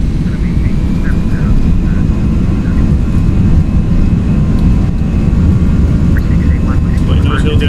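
Airbus A319 jet engines in the X-Plane 11 flight simulator spool up to takeoff thrust, a steady loud broadband roar that holds evenly throughout, with a voice speaking over it.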